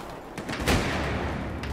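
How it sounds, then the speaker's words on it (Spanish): A grenade detonates in the Battlefield 4 shooter game, a broadband boom peaking about two-thirds of a second in and trailing into a dense rumble of ongoing battle noise, with no voices. "¡Granada!"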